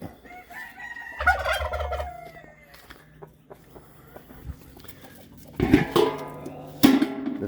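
Rooster crowing and chickens clucking at morning feeding time in a coop, with a loud crow early on and further bursts of crowing and squawks near the end, close by over quiet rustling.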